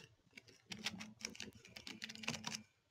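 Rapid, close keystrokes on a computer keyboard as a QBasic program is typed, coming in irregular bursts with short pauses between them.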